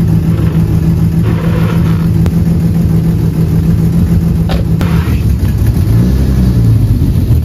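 A BMW E36 fitted with new MaxPeedingRods T7 coilovers drives on the road. Its engine drones loud and close from inside the car, with revs swelling and falling under a steady road rumble.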